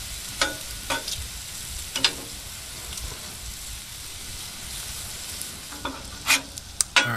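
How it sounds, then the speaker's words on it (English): Bacon sizzles on a Blackstone 22-inch griddle, a steady close frying hiss broken by scraping and stirring strokes of a spatula at irregular moments. "this bacon is pretty much done. You can see that nice, beautiful color and that sizzle"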